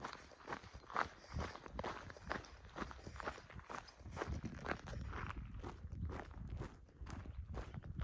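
Footsteps of someone walking outdoors crunch in a steady rhythm, close and fairly quiet, continuing evenly with no talk.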